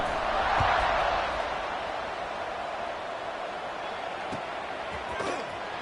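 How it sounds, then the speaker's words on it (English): Crowd noise at a Georgia Tech vs Duke college football game, a steady broad stadium roar swelling early and then holding at a dense, even level, with occasional thumps and a play-by-play voice over it. "this crowd is buzzing after that last score"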